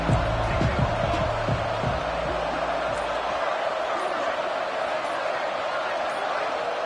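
A stadium crowd at a football game roars in a steady, loud wash of noise that stays constant throughout, with an announcer's voice partly audible over it early on.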